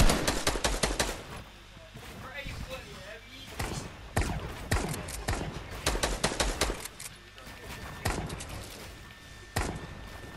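Heavy sniper shots and other gunfire in an online shooter game, a series of loud sharp cracks and rapid bursts mixed with game effects, with players talking over the action.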